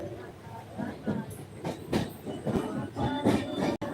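A passenger train rolls through a Konkan railway station, heard from inside the coach as a steady, rhythmic rumble and clatter of wheels, fairly close and continuous.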